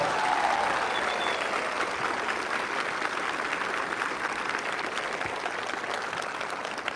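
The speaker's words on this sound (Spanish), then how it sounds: "Aplauso para mi Padre Dios." A church congregation applauds, steady dense clapping that fills the whole stretch evenly, loud and continuous with no talk over it.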